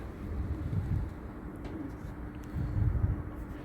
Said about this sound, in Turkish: Kuşumuz bu arkadaşlar. Güzel bir dumanlı kirli erkek.